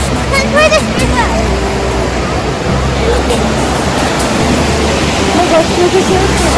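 A waterfall roars as a steady, broad wash of rushing water, loud and close throughout, with people talking faintly over it.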